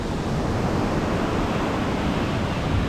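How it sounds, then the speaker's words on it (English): Broadband ocean surf rolling onto the shore at Toco, a steady, continuous wash of waves with wind, loud and unbroken with no voices. "And the ocean right there"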